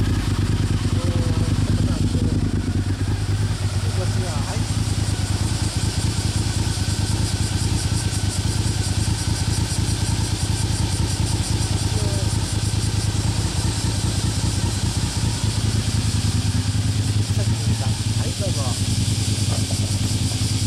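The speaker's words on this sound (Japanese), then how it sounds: "VTR からエンジン音聞きましょうか。" A Honda VTR1000SP-1 RC51 V-twin fitted with an Akrapovic exhaust idles steadily and loudly up close for about twenty seconds, a continuous throbbing rumble with faint voices in the background.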